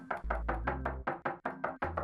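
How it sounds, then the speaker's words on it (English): Knocking on a door in Super Mario Maker, triggered by tapping the screen with a stylus: a quick series of about nine crisp, evenly spaced knocks, clear and close with nothing else behind them. "You can knock on it by tapping on your screen with your stylus."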